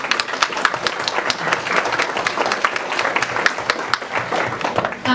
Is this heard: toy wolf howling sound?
no